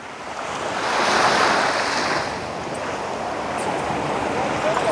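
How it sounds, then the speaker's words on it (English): Strong ocean waves surge and break on the shore by the sea at sunrise, a continuous broad roar that swells early and stays loud, with some wind noise over the rushing surf. "I'm hearing some strong waves right now."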